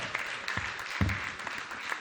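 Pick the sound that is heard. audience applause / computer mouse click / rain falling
audience applause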